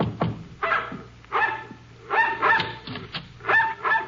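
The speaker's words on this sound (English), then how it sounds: "the dog barking at our heels" A mongrel dog barks repeatedly at close range on a porch, giving sharp, loud yaps in irregular bursts with short whimpering yips between them and no talk over it.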